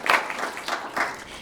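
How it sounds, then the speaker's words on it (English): Lecture audience gives a short burst of applause, dense clapping that swells briefly then fades, heard from within the room. "A big round of applause for them"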